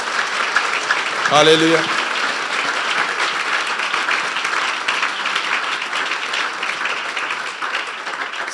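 Loud, sustained applause from a church congregation fills the room after a brief shouted voice, continuing steadily to the end.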